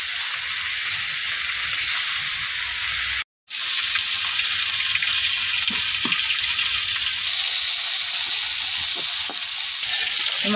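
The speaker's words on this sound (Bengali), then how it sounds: "মাছটি ভাজা হয়ে গেছে, এখন তুলে নিতেছে।" Fish fries in hot oil in a pan with a loud, steady sizzle and occasional spatula scrapes, broken by one brief silent gap; no talk is heard.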